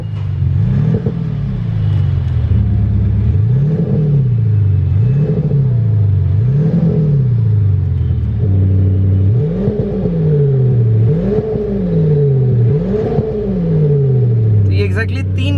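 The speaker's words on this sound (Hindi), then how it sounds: "तो ये अपनी कार में लगा हुआ है एक्टिव एग्जॉस्ट।" BMW with an active exhaust revving repeatedly, deep throaty rises and falls in a steady rhythm of about eight blips, loud and close, with the pitch of the revs shifting partway through.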